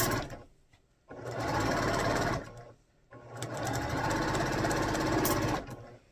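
Sewing machine stitching quilt top columns together, two sustained runs of steady rapid mechanical whirring with a brief pause between, close and fairly loud, no speech.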